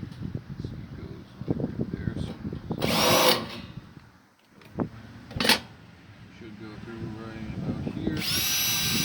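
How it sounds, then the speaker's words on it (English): A power drill boring holes for rivets in parts of a custom box for the back of a bike, three short whining bursts spaced apart, with low talking and handling noise between them. "I'm just going to start, drill a quick hole right here."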